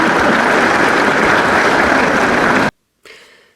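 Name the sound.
audience applause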